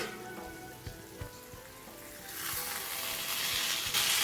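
Green masala chicken gravy sizzles and bubbles in a pan as it is stirred, starting as soft spattering with scraping taps and swelling into a louder, denser hiss; no voices.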